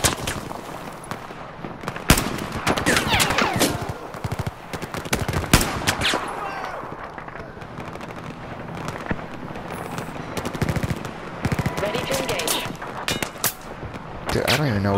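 Battlefield 4 combat gunfire, dense bursts of automatic shots and sharp single cracks firing in irregular clusters throughout, with occasional heavier blasts and a player's voice talking over the battle.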